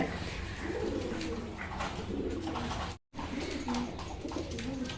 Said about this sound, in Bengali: এই যে নট ডাকতেছে